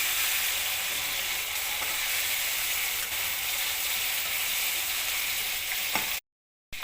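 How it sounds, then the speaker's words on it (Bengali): Fish coated in salt and turmeric frying in hot oil, Bengali-style, with a steady, dense sizzle that holds evenly throughout and cuts off briefly near the end. "মেখে তেল দিয়ে ভালো করে উল্টে পাল্টে ভেজে নেবো"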